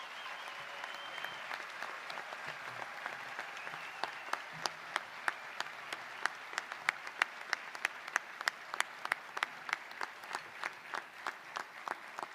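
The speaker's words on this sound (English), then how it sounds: "Please give him the round of applause." Applause at a high school graduation ceremony, scattered claps building into a quiet, distant round of clapping with sharp individual hand claps standing out near the front.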